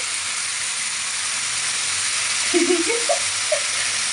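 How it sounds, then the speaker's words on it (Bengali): Spinach and vegetables sizzle in a pan with a steady, bright frying hiss throughout. A faint voice talks briefly partway through. "পালন শাক রান্না করছি সবজি দিয়ে"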